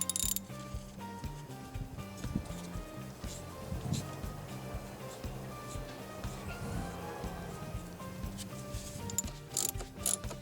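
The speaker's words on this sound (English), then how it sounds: "go ahead and tighten up the 10mm bolt that connects the hose to the top part of the filter" A ratchet tightens a 10mm bolt that secures the intake hose to the top of the air filter housing on a Kia Soul. Several clicking bursts sound close, over steady tonal background music.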